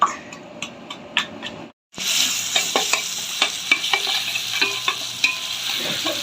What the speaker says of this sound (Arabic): هنا بقى بنلوح البسلة، سمنة وبصل وتوم